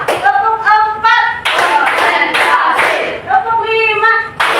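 A classroom of students claps in rhythm in bursts of quick unison claps, loud and close, alternating with voices chanting a count in between.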